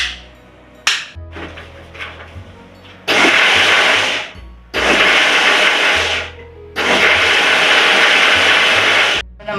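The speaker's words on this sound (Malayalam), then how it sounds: "രണ്ടാം ട്രിപ്പ് നമ്മൾ മിക്സിയുടെ ജാറിലിട്ടിട്ട് അടിക്കുമ്പോൾ അത് ബ്ലെൻഡ് ചെയ്തെടുത്താൽ മതി" An electric mixer grinder jar blends batter for vatteppam, a soft steamed rice cake, in loud, near whirring bursts of about one to two seconds each with short pauses between them, and no one speaks.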